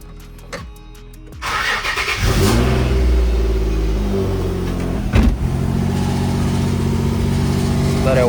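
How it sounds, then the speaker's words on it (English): A Nissan 350Z cranks over and fires up after a fluid top-up in the differential, then settles into a loud rumbling idle with a couple of sharp revs partway through, heard close by. "I'm gonna start the car, put it in gear"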